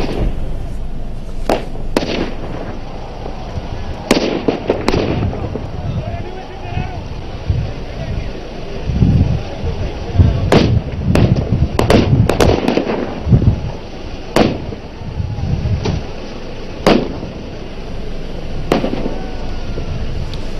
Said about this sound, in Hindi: फायरिंग की ये आवाजें हैं जो आपको सुनाई दे रही होंगी अपनी टेलीविजन स्क्रीन पर